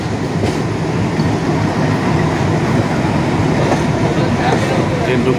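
A passenger train rolls into a station on the Howrah to Madhusudanpur route, a loud close steady rumble of wheels and carriages with faint clatter and brief squeals, continuous throughout.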